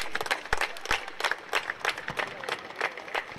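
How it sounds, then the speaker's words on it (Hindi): Applause from a crowd at a village cricket final after a fielding effort, steady overlapping clapping for several seconds with a loud outdoor crowd and some background voices. "एफर्ट के लिए एक बार जोरदार तालियां"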